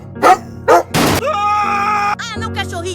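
A cartoon puppy cries out in two short yelps, then gives a sharp noisy burst and a long wavering whimper, all close and fairly loud with no talk over it.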